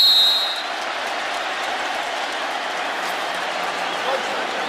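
Stadium crowd at a Saints vs Cowboys NFL football game in New Orleans, 2009: a steady, broad wash of crowd noise fills the space throughout, slightly louder at the very start, with no distinct cheer peaks.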